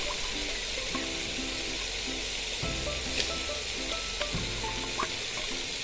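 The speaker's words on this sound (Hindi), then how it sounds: "यहाँ पर मसाला जो है अच्छे से फ्राई हो रहा है और अब हम इसमें ऐड कर रहे हैं पाए" Mutton trotters (paya) sizzle in frying masala in a pan: a steady, fairly quiet hiss and crackle with a few light clinks and stirring knocks.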